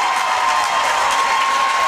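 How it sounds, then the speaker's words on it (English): Crowd noise at a boys' high school basketball game, a steady wash of cheering and applause echoing through the gym, loud and continuous. "Crowd is insane."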